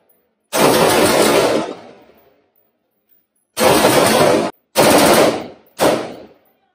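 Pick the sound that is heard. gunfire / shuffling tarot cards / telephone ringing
gunfire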